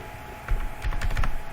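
Fingers tap a computer keyboard in a short uneven burst of close clicks entering numbers into an Excel sheet, a faint hum underneath and no one talking.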